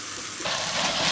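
Onion, ginger and garlic sautéing in a pan for a buffalo meat curry, a soft sizzle that swells louder partway through and keeps frying steadily, close and alone.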